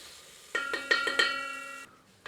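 A metal ladle clanks against the pan while yogurt masala gravy fries for chicken kofta curry. About four ringing knocks come close together over a faint sizzle, then the sound drops off.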